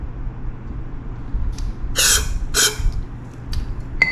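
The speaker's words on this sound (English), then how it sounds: "We're gonna spray a quick spray in there." Two short hissing bursts of aerosol spray into a power washer's engine, close by, over a low mechanical rumble with a few faint clicks.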